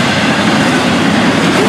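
A long freight train, around 8,900 feet, rumbles past close by in Titusville, a steady loud roar of wheels and cars with no break.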